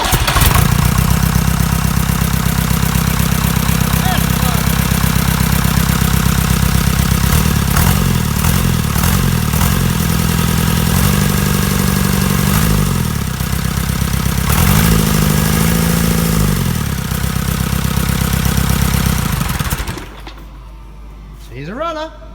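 A 1981 JCB 3CX's Leyland 4/98 diesel engine, out of the machine on a stand, runs at idle close by with a loud, steady clattering chug for about twenty seconds before it is shut off and falls quiet.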